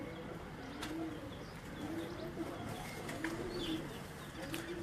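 Pigeons coo softly and repeatedly, low throaty calls over a faint background hum, several spaced coos at a moderate distance.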